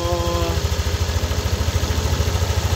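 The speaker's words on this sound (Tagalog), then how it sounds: "So pakinggan nyo ng maigi kung meron pa yung tik tik tik tik tik tik tik tik tik na tunog." A Yamaha Nmax V2 scooter engine idles when hot, its steady rapid pulsing throb carrying a faint metallic ticking rattle, close and continuous.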